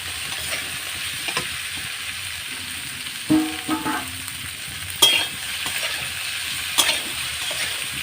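Potatoes and cabbage frying together in a pan for Bengali-style khichdi, a steady low sizzle broken by a few sharp stirring scrapes and clatters of a spatula against the pan.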